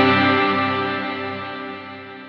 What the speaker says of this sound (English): Once we disengage the effect, the reverb will actually continue to trail off until it's done.